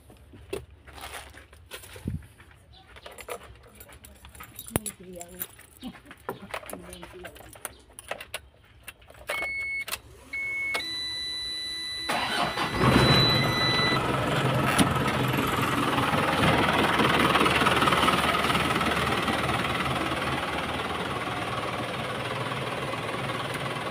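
An engine is worked on and then started: clinks and shuffling come first, then the motor catches and settles into a loud, steady running drone that continues to the end.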